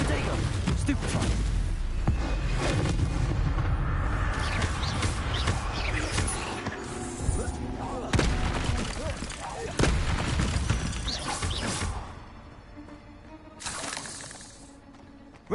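Hogwarts Legacy spell casting, with a dense, continuous run of crackling, shattering and booming magic impacts that stays loud for the whole clip and briefly thins near the end. Game voices and other speech sit under the effects.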